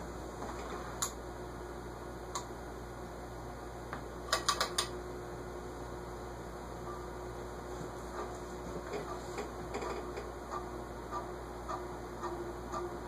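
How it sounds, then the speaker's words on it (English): An SMC A52 ceiling fan runs with a steady hum while a faulty bearing scrapes, making irregular light ticks and clicking scratches with a brief cluster near the middle and no talking. "it sounds more like something scraping on the bearing eyes"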